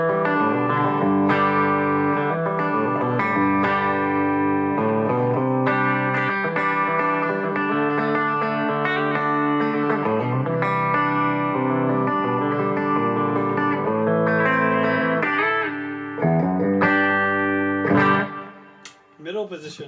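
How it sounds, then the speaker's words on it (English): A Westone Thunder II electric guitar on its bridge pickup with tone centred and volume full plays a clean tone, a loud, continuous run of chords and single notes with sustained ringing harmonics, ending in a brief pick scrape. "So here is bridge pickup, everything in the middle, volume's full, clean tones."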